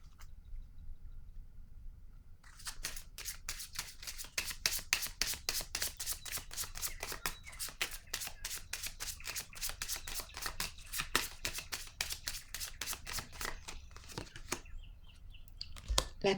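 Tarot cards are shuffled by hand close up: a quiet pause, then a long run of rapid, crisp riffling flicks that continues steadily to the end.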